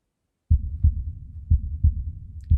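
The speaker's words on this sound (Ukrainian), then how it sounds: "Чуєте, це моє серце б'ється від хвилювання." A steady, deep heartbeat thumps close and clear, a regular lub-dub rhythm starting after a moment of silence.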